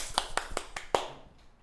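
Students in a high school chemistry class clapping for a classmate, five or six distinct, evenly spaced claps from a small group, fairly close, ending with a stronger final clap and quiet room tone.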